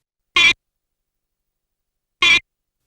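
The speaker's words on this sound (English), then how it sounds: "You can honk a horn" Two short, identical electronic horn honks from an Intellivision video game, about two seconds apart, each loud and buzzy against complete silence.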